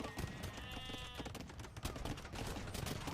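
Hand cannons firing in a real-time strategy match between Nomad armies, heard as dense, continuous gunfire crackle mixed with battle noise and bleating-like unit sounds, loud and sustained throughout.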